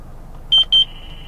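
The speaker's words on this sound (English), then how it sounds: "the V1 is actually going off faster than the B3 is able to even get a speed" Valentine One radar detector alerting to a radar gun: two short, loud, high-pitched beeps in quick succession, followed by a faint steady tone.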